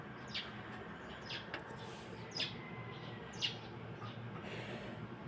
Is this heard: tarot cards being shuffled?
no